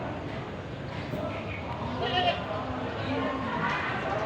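A goat bleats on a farm in short, moderate calls over a steady outdoor background, while people talk nearby.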